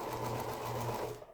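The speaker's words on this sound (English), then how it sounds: "So we'll just sew these last two seams" Sewing machine running along quilt seams, a short, steady motor hum with a fine rapid stitching pulse, close and moderately quiet, trailing off at the end with no speech.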